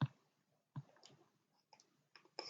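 Computer mouse clicking several times, sharp close clicks spaced irregularly in a quiet room, with no talk.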